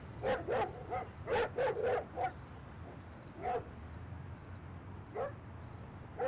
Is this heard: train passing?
no